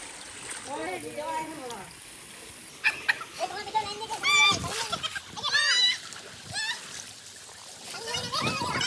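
Splashing in cold water as people wade in at Tajpur, with intermittent sloshes and splatters close by under excited voices and children's chatter.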